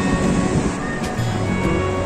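Saraswati river rushing fast near Mana village by Badrinath, a steady loud roar of churning water with no break, heard close and alone.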